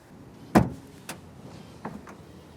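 A Maxus eTerron 9 4x4 pickup's front trunk opens with a sharp latch clunk followed by two fainter clicks, close and quiet, with nobody talking.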